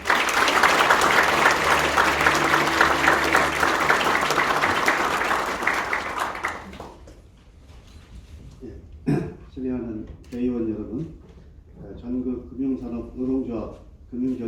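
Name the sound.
audience applause welcoming a speaker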